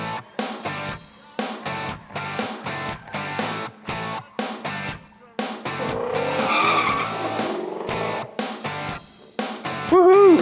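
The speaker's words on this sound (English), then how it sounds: "here we are, off for a blast in a brand new Mustang" A brand new Ford Mustang is driven hard at the SEMA Show, its engine roaring in repeated revving bursts with short gaps, then a sustained run and a rising tire squeal near the end.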